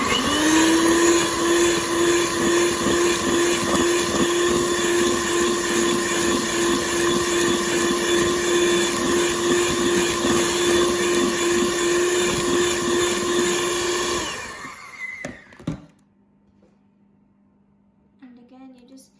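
An electric mixer beating eggs into milk cake batter, a loud steady motor whine with a constant pitch that runs for about fourteen seconds, then winds down and stops, followed by faint clatter.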